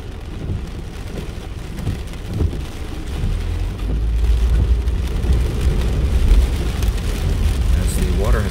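Heavy rain during a strong storm in Las Vegas pours down beside a school building, with water gushing from wall drains and ponding, a steady dense roar that swells louder midway, with a low rumble and traffic underneath.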